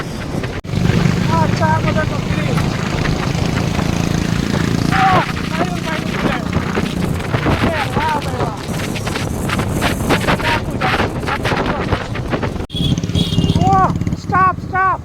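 A Bullet motorcycle rides along with a continuous engine drone and heavy buffeting wind noise on the microphone, while people talk and call out over it throughout.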